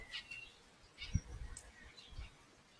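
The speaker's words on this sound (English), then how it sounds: "And I can hear a cockerel." Small birds chirp and tweet faintly in a garden with bird feeders, giving a few scattered short calls over quiet outdoor background with soft low thumps; no clear cockerel crow stands out.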